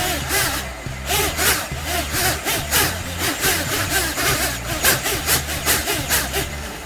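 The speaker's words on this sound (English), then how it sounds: "The flight controller should be able to work to control the propellers to resist my movement." Quadcopter motors spin propellers during a ground test with a high-power ESC, giving a loud, rough buzzing drone that pulses and wavers rhythmically as the craft is pushed about by hand.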